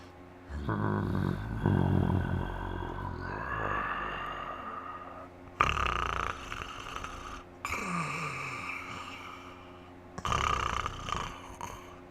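A human voice imitates the low, snoring growl of an unseen jungle creature, delivered in several drawn-out rumbling bursts with brief pauses between them, loud and close.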